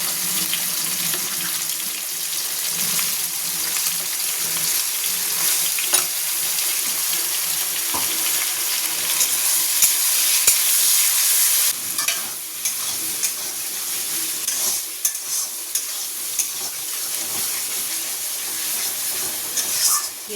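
Onions fry in a pan with spices, a steady broad sizzle running throughout with occasional clinks and stirring scrapes, and a brief burst of running water partway through.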